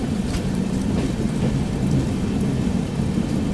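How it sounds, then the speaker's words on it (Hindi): Heavy rain pours outside a train coach on the Vaishali Express, with water leaking inside, making a steady, loud, unbroken roar with no voices. "बाहर हो रही है बारिश, पूरा कोच के अंदर इस तरह से आ रहा है पानी"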